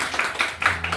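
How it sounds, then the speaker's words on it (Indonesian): Brief hand clapping for a teacher's presentation in a classroom, a few close, distinct claps in quick succession. "Dan tambah tepuk tangan untuk Bu Sinta dulu."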